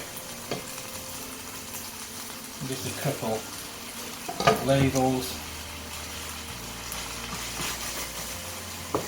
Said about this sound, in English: Oh, it's starting to make that frying noise, which means we need to add water.